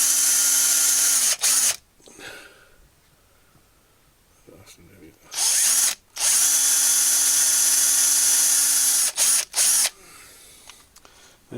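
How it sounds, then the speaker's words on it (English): A pillar drill fitted with a 10mm bit bores into wood for a shoe rack, running in several loud sustained bursts with a steady high whine, broken by short pauses and quiet handling noises between runs. "I'm not going to be starting the drill with the tool into the wood."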